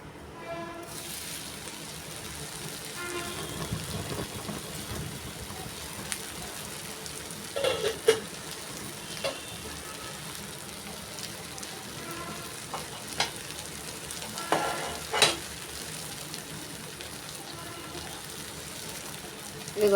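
Eggplant curry sizzles and fries steadily in a pan, with occasional scraping stir strokes and clinks rising above the continuous crackle, at moderate level and no talking.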